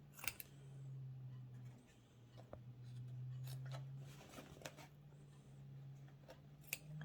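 Scissors snipping paper to cut a field of daisies flush, a few faint, close crisp cuts alone in a quiet room.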